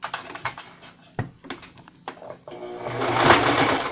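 A sewing machine stitches fabric for a homemade dust mask in short bursts of rapid mechanical clatter, then settles into a louder, sustained run near the end.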